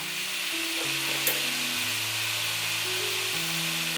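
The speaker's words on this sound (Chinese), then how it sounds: "炒一炒，可以关火上桌了" Sugar snap peas and potatoes sizzle steadily as they are stir-fried in a pan, a continuous close frying hiss with light background music.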